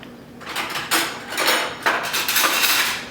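A metal spoon and knife picked up from a kitchen drawer, a few close clinks and rattles of cutlery with a sliding knock.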